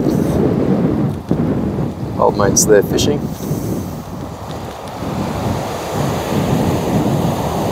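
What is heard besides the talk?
strong wind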